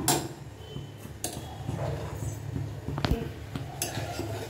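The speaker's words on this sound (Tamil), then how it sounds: "இப்போ ஜாடியை மூடி வச்சிட வேண்டியதான்." A lid is set on a jar in a home kitchen during karuppu kavuni millet payasam preparation, giving a few faint clinks and one sharper click near the end against a quiet background.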